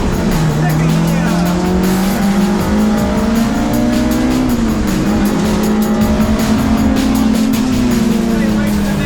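A race car on Protoura race tyres accelerates hard around a track, its loud engine note climbing steadily through the gears as one continuous close roar, with a voice talking over it.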